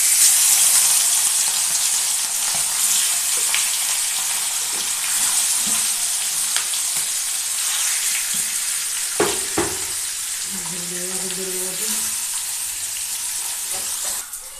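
Rohu fish frying in hot oil, with a steady dense sizzle that runs the whole time and a few brief clinks and stirring knocks partway through; no one speaks.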